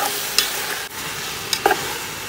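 Razor clams stir-fried in a pan with lemongrass, garlic and shallots give a steady sizzle broken by a few clinks and scrapes of the utensil, close and moderately loud, with no talking.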